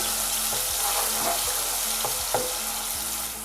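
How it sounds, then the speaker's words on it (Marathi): Ground masala paste for Rani fish curry sizzling steadily in hot oil, a dense continuous hiss with a few soft spoon scrapes and taps close by. "तेल आपलं तापलं आहे आता त्याच्यामध्ये वाटण टाकून घेते वाटण थोडंसं तेलावर परतून घेऊया"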